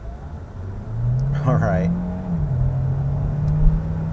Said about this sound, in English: So I'm hearing the engine a lot more there.